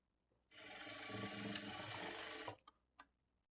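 A sewing machine runs in one steady burst of about two seconds, stitching folded lining cloth on a blouse, then stops, followed by two brief mechanical clicks.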